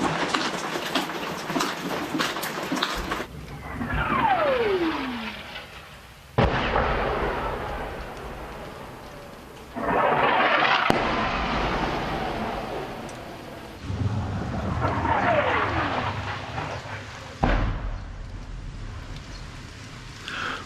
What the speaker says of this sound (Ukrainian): ось такі артобстріли в Сіверську не змовкають майже ніколи